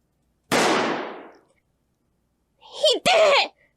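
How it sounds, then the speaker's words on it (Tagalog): Gunshot effects in a Filipino horror audio drama about aswang: a sharp, loud burst decaying over about a second, then after a pause a voice cry cut by a second crisp crack. "Tumunog uli ang putok ng baril."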